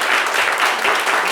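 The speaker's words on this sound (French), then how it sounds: "Ses supporters, on peut l'applaudir très très fort." Dense, steady applause from a French studio audience on a comedy variety show, continuous clapping filling the whole moment at moderate loudness with no voice over it.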